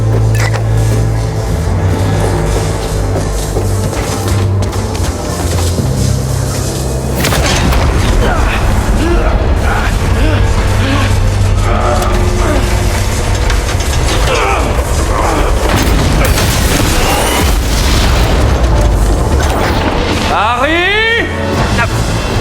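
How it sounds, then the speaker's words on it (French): An unstable particle accelerator machine in the Spider-Man 2 video game powers up with a loud, continuous mechanical drone. Clanking, ratcheting bursts run through it, and a rising whine sweeps up near the end. A voice talks faintly underneath. "La machine s'allume, mais le rayon est instable."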